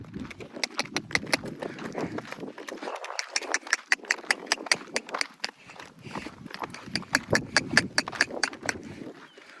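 A mare being led out on foot toward a farm plot, her hooves striking the ground in a steady, close clip-clop with a faint rattle of tack, no voices.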